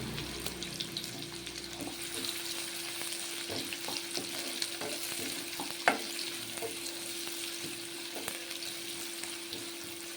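Onions frying in hot oil with a bay leaf for curry give off a steady, soft sizzle, broken by scattered scraping clinks as a spoon stirs them around the pan.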